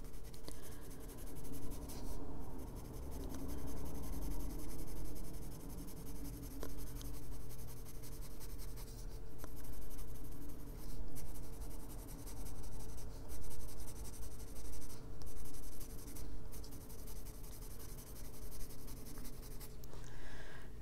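Luminance colored pencil scratches steadily across paper during adult coloring, a continuous soft scraping with short strokes and brief pauses, close and quiet, with no talking.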